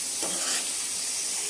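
Brinjal sizzles loudly in a hot pan over high flame, a steady bright hiss with faint scraping as it is stirred, close and alone with no voices.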